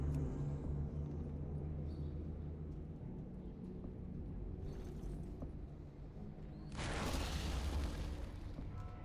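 A World of Warcraft explosion bursts in abruptly after a quiet low-rumbling stretch, a loud broadband blast that holds for a couple of seconds over the game's background ambience.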